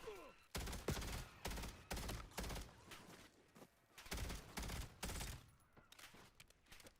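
Bursts of gunfire from a weapon in Black Ops 7, several short rapid volleys separated by brief pauses, loud and close, with no talk.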